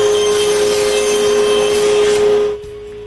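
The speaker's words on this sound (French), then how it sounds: "Je coupe sur le banc de scie, là," A table saw cuts a rabbet into the end of a piece of wood, a steady loud whine with a strong tonal hum running for about two and a half seconds before the blade load drops off.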